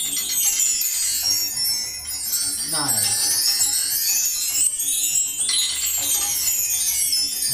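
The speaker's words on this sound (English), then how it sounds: "We end with the chime tree, which is a new set of chimes." A chime tree on a virtual drum kit rings out in a bright, shimmering cascade of high metallic tinkles that sweeps and sustains over several seconds, with a brief spoken word in the middle.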